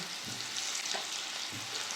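Potatoes frying in hot oil with turmeric and salt, a steady bright sizzle with a few soft stirring knocks, close and alone with no voices.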